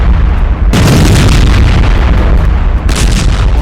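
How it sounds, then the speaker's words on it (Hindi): Bunker buster bombs detonate in two heavy, loud blasts a couple of seconds apart, each a sudden deep boom that rolls into sustained rumbling. "उन्होंने बंकर बस्टर के धमाके किए।"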